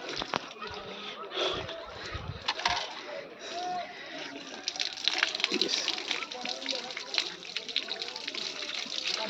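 Water from a generator-fed supply splashes and pours in uneven bursts during ablution at a hilltop mosque, a steady gush with sloshing, and voices talking faintly in the background.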